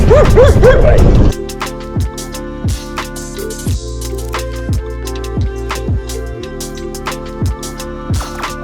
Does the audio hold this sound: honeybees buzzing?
no